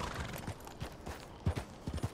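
Horse hooves clip-clopping in Red Dead Redemption 2, a soft, fairly quiet series of irregular thuds at a walking pace.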